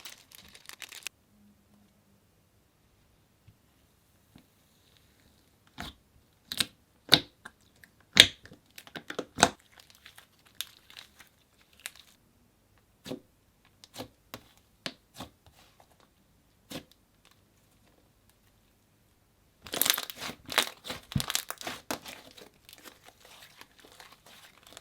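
Butter slime mixed with clay and confetti pieces being squished and poked by hand, giving sparse crisp crinkly pops and clicks with quiet gaps, then a denser burst of crackling near the end, close and alone.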